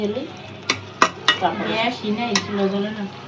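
Tengra fish being sautéed in a pan with sharp metal spatula clinks against the pan, scraping stirs and a light sizzle underneath, with faint voices in the background.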